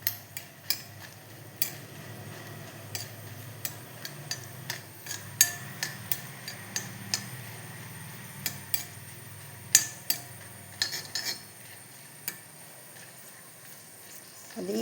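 Chillies being stirred in a pan for a homemade chilli chammanthi, heard as a steady run of light, irregular metal-on-pan taps and scrapes at moderate distance, with no talking.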